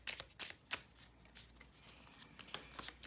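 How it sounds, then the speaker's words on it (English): Tarot cards are shuffled by hand, giving soft, quiet riffling and papery flicks in irregular bursts, close by and with no talking. "Let's shuffle this a 4 and we'll see what the tarot gives here."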